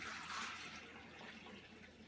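Water pours into a container in a continuous, soft splashing gurgle, faint and close, with no talking.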